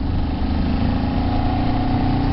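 A Kawasaki Z400 motorcycle engine pulls on the road with a steady, droning mid-pitched growl that holds an even level throughout, with no voices.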